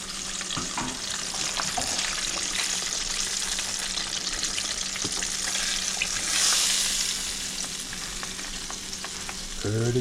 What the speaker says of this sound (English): I like to fry my fish a little on the hard side.